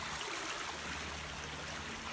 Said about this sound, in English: crossing Stewart Hollow Brook. Very pretty.